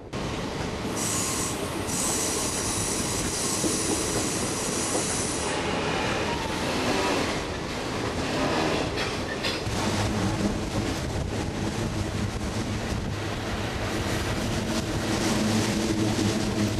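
A circus train rolls past at the Keddie Wye on a busy mountain railroad in Northern California, a loud, steady rumble of railcars with squealing wheels and rhythmic clatter that continues unbroken.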